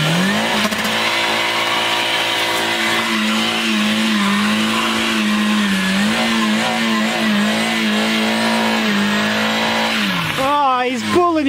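A car engine revs hard and holds high during a burnout, a loud sustained droning roar with slight wavering, then climbing and falling in pitch near the end; voices are heard faintly.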